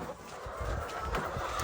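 Chickens in a backyard cage cluck in a low, steady stream of soft, overlapping calls, close by and continuous with faint rustling underneath.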